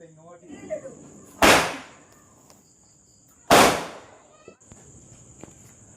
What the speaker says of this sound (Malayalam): ഇത് ചൈനീസ് പടക്കട്ടോ